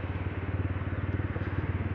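TVS Apache RTR 200 4V motorcycle riding in urban mode around 2000–3000 rpm, its engine giving a steady, close, pulsing low thrum throughout with no voices.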